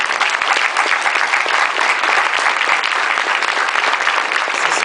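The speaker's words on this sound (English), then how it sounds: "I'd like to offer a round of applause for Team Adams" Loud, dense applause from a crowd during a family speech, honoring the speaker's wife and children, sustained evenly for about five seconds with no talk over it.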